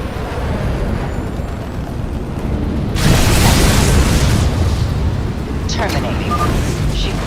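Nuclear missile strike in StarCraft II Nova Covert Ops: a low ambient rumble breaks into a loud, sustained blast-like roar partway through, followed by another sharp burst near the end.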